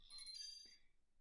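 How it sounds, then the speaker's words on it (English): A mobile phone ringtone sounds briefly at close range, a bright electronic chime that rings for under a second and then cuts off into quiet. "Sorry, that was my phone."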